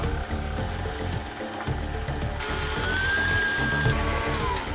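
An electric mixer runs steadily while it creams sponge cake batter with sugar in a mixing bowl. It gives a continuous mechanical whirring and rattling drone that stays loud throughout, and no one speaks over it.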